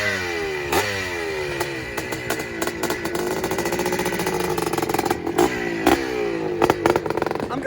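A Honda CR500 dirt bike engine at a motocross race, sputtering as a rider tries to start it, then revving hard and repeatedly, rising and falling in pitch with rough, blatting clatter, loud and close throughout.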